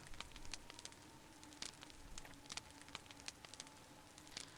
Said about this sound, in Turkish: Bu ateşin sesi de bir acayip ya.